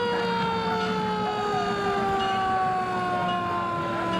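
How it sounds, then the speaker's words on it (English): Siren of a 1925 antique fire truck of the St. Clair Volunteer Firefighters in a parade, a loud, steady wail slowly dropping in pitch as it passes over continuous engine and crowd noise. "there's another fire truck coming our way, and this happens to be the St. Clair Volunteer Firefighters. I hear them."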